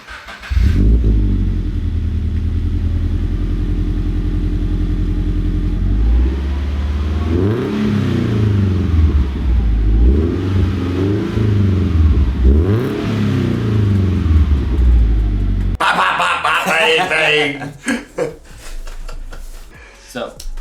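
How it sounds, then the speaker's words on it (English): Randy's car engine revs hard again and again, a loud rumbling roar that climbs and falls in repeated surges before breaking into rougher, choppier bursts near the end, with no one talking over it. "here is a little bit of an audio clip of Randy's car going some mad raps"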